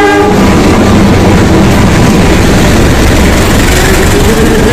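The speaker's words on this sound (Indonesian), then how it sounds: "kita lihat ya, keretanya sudah datang." A train rolls right past a busy street market on a Java railway line, a loud continuous rumble of wheels and rail clatter with a horn tone early on, filling the whole stretch with no talk.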